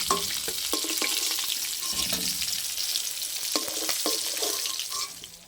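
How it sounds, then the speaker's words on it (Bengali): Small fish frying in hot oil in a pan, a dense continuous sizzle up close with occasional light clinks and stirring, fading at the very end. "বাকি মাছগুলো একই রকম ভাবে ভেজে নেব।"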